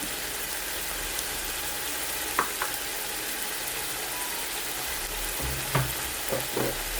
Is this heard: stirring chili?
yes